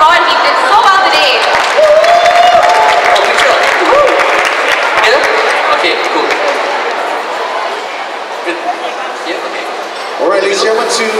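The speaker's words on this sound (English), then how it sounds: "Can we get a round of applause for Rod?" A crowd applauds at a cooking show event, a dense wash of clapping mixed with chatter and cheering voices that tapers off, then rises again briefly at the end.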